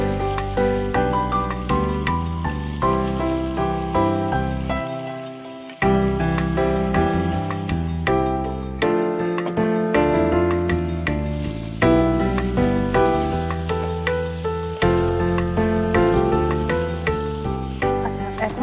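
Raw jackfruit hits hot oil with nearly cooked shrimp, giving a continuous loud sizzle and spatter under strong tonal background music, with brief dropouts partway through.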